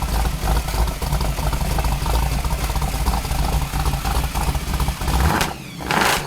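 A classic American muscle car engine, likely a Dodge Charger, rumbles loudly and steadily, then dips into a brief sharp burst near the end as it gives a short rev.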